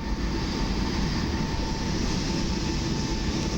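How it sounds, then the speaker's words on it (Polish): A Koleje Mazowieckie Impuls electric train rolls slowly into Skierniewice station in winter, a steady broad rumble with a faint whine, even and continuous at moderate distance. "Mamy leniwy wjazd Impulsa do Skierniewic, koleje mazowieckie."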